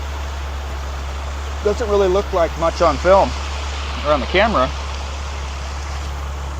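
A waterfall on the Compressor Trail in North Idaho gives a steady, low rushing roar that runs unbroken beneath someone talking.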